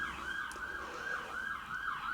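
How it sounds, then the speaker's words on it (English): Ambulance siren wailing as it departs a hospital, a rising and falling tone heard at a distance, faint and steady over low background hum. "from time to time an ambulance will depart and you'll hear it"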